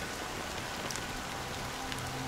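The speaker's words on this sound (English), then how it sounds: "it's still raining." Steady rain falls in the video game Honkai Star Rail, a continuous even hiss of drops on a surface with a few brighter patters, a faint low tone entering near the end, with no voices.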